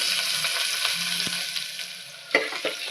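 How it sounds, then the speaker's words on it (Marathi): Chopped onion and green chili hit hot oil in a pressure cooker, giving a steady close sizzle and crackle with a few stirring scrapes and clicks. "इथे आता तेल चांगलं गरम झालंय आहे त्यामध्ये हा चिरून घेतलेला कांदा आणि मिरची घालून घेते"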